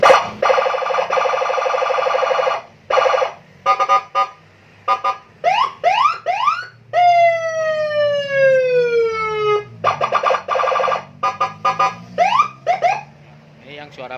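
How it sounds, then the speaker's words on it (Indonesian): A custom TST police-style siren fitted to a 2020 Yamaha Nmax blares loud and close. It runs through modes: a steady wail, short choppy bursts and rising whoops, plus a long falling yelp, with pauses between them and no voices. "Sekarang kita coba untuk sirinenya guys."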